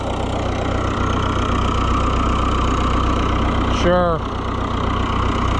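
An Oliver 1365 tractor's diesel engine idles steadily just after a fuel system repair, a constant low rumble throughout, with a brief word of speech near the end.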